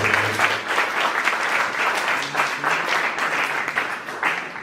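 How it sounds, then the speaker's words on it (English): A large audience gives sustained, dense applause at a live team presentation event, steady and loud throughout with no pauses or talking on top. "A round of applause for them."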